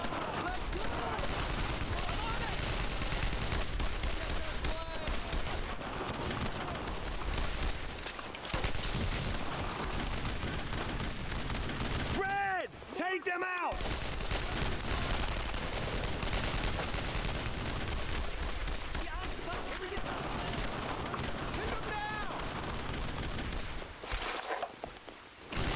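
Sustained suppressing gunfire in the World War II shooter Brothers in Arms: Road to Hill 30, dense rapid bursts of rifle and machine-gun fire almost nonstop, with a short lull midway and shouted voices mixed in.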